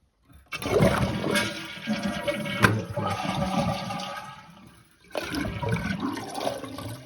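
A household toilet flushes with the supply water shut off, a loud rushing gush as the tank drains, a brief pause, then a second surge of draining water, with no voices.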